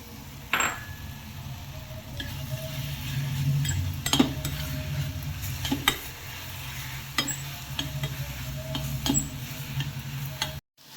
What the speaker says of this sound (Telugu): ఇప్పుడు ఈ తిరగవాతలు మామిడికాయ బాగా వేగింది కదా